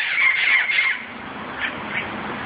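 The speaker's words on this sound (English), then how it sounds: "Parrots. They're all over the place here. They're so loud." Wild parrots squawking in Southern California: a few harsh, shrill calls that are fairly close and loud, followed by a couple of fainter squawks over steady outdoor noise.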